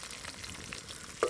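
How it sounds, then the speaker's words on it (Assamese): Farm eggs fry in a pan on a village kitchen stove, a faint, steady crackling sizzle with a small click of the utensil at the very end. "তাজাকৈ ভাজি দিছোঁ সিহঁতক।"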